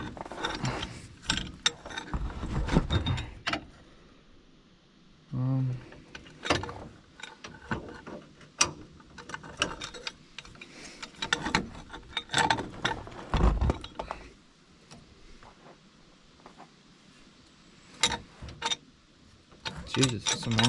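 Impact wrench and hand ratchet work loosening bolts while fitting a trailer hitch to a 2006 Ford Ranger, with rapid mechanical clicking and short bursts of whirring spread through the stretch, close by, separated by quieter pauses.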